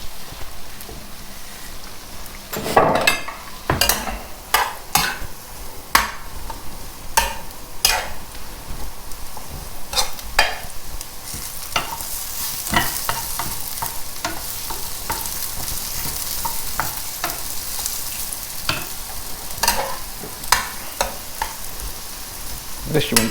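Leeks fry in melted butter in a pan while being stirred, a steady sizzle broken by frequent sharp clicks and scrapes of the utensil against the pan.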